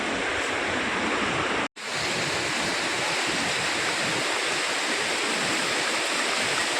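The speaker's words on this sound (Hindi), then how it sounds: "ये नदी का किनारा" A river rushes along its bank in Pahalgam, Kashmir, as a loud, constant wash of flowing water. It is broken only by a momentary gap before resuming unchanged.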